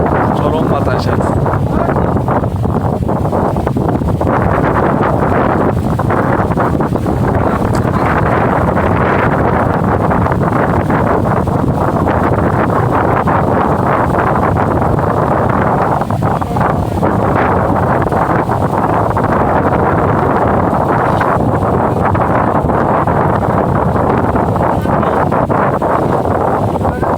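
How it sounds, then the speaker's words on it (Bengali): Strong wind on an open boat while a fishing net is hauled, a loud, continuous roar buffeting the microphone for the whole stretch without a break. "চরম বাতাস আছে।"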